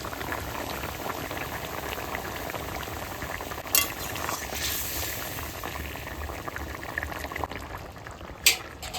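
Curry with green chilli boils in a pan, a dense steady bubbling and sizzling close up, with a couple of brief clinks of a utensil against the pan.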